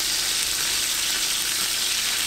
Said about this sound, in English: you want it hot enough where the chicken sizzles and you see steam coming off